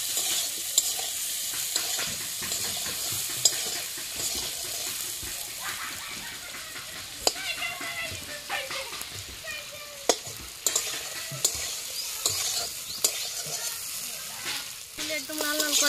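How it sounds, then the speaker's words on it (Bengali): Kashmiri chili powder fries in a pan, a steady sizzle with frequent stirring clatter and scraping throughout, close and fairly loud, with no voices. "কাশ্মীর লঙ্কার গুঁড়ো দিয়ে দিচ্ছি একটু লঙ্কার গুঁড়ো কালারের জন্য ভেজে নেই"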